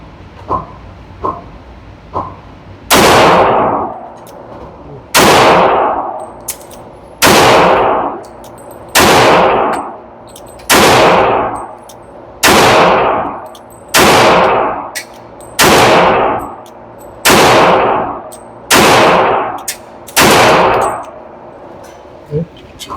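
Loud pistol gunshots from a .45 ACP 1911 at an outdoor shooting range, about eleven sharp reports fired at a steady pace roughly every one to two seconds, each with a ringing decay, preceded by a few light clicks.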